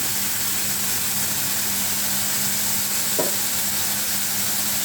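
Catfish sautéing in a pan over medium-low heat, giving a steady, even hiss of frying that runs throughout, with one brief scrape midway.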